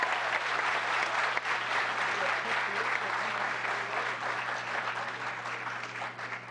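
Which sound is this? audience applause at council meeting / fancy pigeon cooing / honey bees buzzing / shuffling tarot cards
audience applause at council meeting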